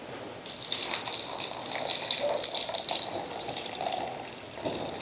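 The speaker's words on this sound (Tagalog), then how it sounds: "Lagay mo water gamay, kunti lang." Water pours into a pot of monggo (mung bean) stew in a Philippine kitchen on a rainy day, a steady gushing splash over a few seconds with a brief pause, close and moderately loud.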